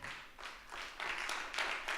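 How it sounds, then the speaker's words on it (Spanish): A church congregation clapping for the Lord during a Spanish-language sermon, several short soft bursts of hand claps in quick succession, fairly quiet and distant. "Denle un aplauso al Señor."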